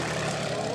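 A scale model Yak-11, a Soviet-design aircraft, drones past with a loud, steady engine roar throughout the short moment, close and unbroken.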